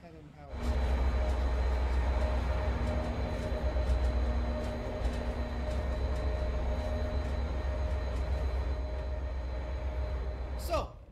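Steady rumble of an MBTA passenger train in Train Sim World 5, running from Boston to Stoughton, with a low continuous drone and faint clicking over the rails, ending with a brief higher whine.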